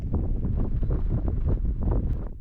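Gusty wind buffets the microphone on an exposed hilltop in Death Valley, coming in loud, rumbling pulses that rise and fall without any voices.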